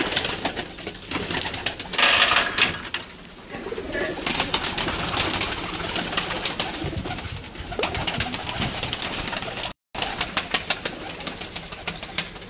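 Slaty pigeons, including a Bichhu breed, coo over a steady mechanical hum, with soft repeated calls blending into background noise and a brief dropout near the end.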